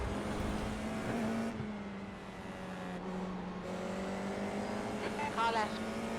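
An FIA F4 race car drones alongside on the Okayama circuit in a VR racing game, its engine note holding steady then rising as it pulls level, with a voice speaking over it.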